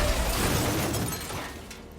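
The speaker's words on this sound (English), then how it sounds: "Her mother turned to help, and suddenly the car crashed." A car crashes with glass shattering: a loud burst of breaking and crunching noise that fades over about two seconds.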